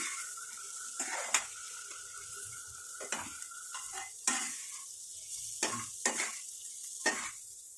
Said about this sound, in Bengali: এবার এটাকে আমি কিছুক্ষণ ভাজবো